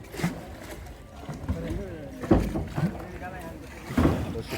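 Wind buffets the microphone and water laps around a boat carrying motorcycles on a windy, fast-flowing river, with people talking nearby.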